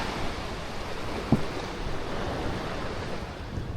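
Waves washing over the reef at Coco Beach in Playa del Carmen, a constant broadband surf roar with some wind noise on the microphone and one brief knock partway through.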